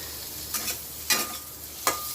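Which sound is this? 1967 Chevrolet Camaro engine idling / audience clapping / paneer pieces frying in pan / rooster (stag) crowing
paneer pieces frying in pan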